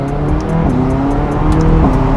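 McLaren sports car on a test drive, engine pulling hard with rising tones and quick gear changes, loud and close inside the cabin.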